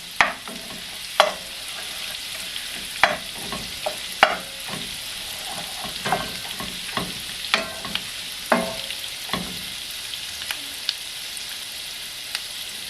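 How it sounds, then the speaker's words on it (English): Sausage browning in a cast iron pan, with a crisp sizzle and a series of sharp scraping stirs at an irregular pace, close up, with no talking. "we're just going to cook this until there's no more pink in the sausage"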